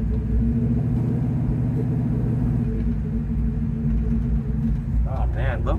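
A 1969 Chevrolet Chevelle with a 454 big-block rated at 550 hp idles nearby, a deep steady rumble with a fine mechanical tick under it, while people talk over the engine.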